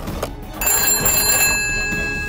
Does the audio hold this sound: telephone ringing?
yes